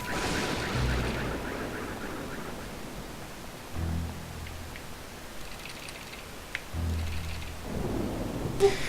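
Thunder from a lightning storm in the Nintendo Land video game: three low rolling rumbles spaced a few seconds apart over a steady hiss of rain, with no voices.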